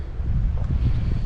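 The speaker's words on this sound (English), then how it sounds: "Sorry about the wind noise." Strong gusts of wind batter the microphone outdoors in 25 mph conditions ahead of a hurricane, producing a steady, loud low rumble with surging buffets throughout, no voices.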